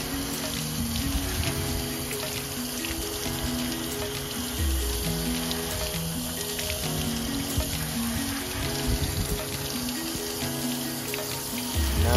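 Tap water runs steadily over filleted catfish meat being rinsed in a sink after cleaning, a continuous splashing wash that holds at an even level throughout.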